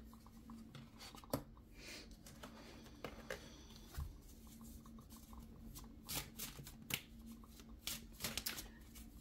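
Tarot cards shuffled and drawn by hand during a reading, giving soft, quiet riffling and repeated crisp slaps and flicks of card stock with a faint steady hum behind, no voices.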